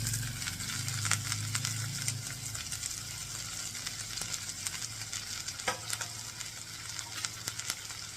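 Chopped amaranth stalks and leaves fry in a pan for an Andhra-style mustard curry, giving a continuous close sizzle with soft stirring rustles throughout and no voices.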